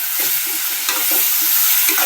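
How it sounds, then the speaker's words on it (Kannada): Onions, three green chillies and tomato fry with curry leaves in a pan while being stirred, giving a steady loud sizzle with soft scraping throughout. "ಈರುಳ್ಳಿ ಎಲ್ಲ ರೋಸ್ಟ್ ಮಾಡ್ಕೊಂಡ್ಮೇಲೆ ಸ್ವಲ್ಪ 3 ಹಸಿಮೆಣಸಿನ್ಕಾಯಿ, ಸ್ವಲ್ಪ ಟೊಮೊಟೊ ಸೇರಿಸ್ಕೊಂಡು ಚೆನ್ನಾಗಿ ಹುರ್ಕೊಳ್ಳಿ"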